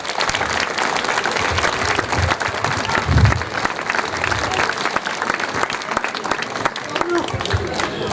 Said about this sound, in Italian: le accogliamo con un grande applauso, le ragazze dell'ASPE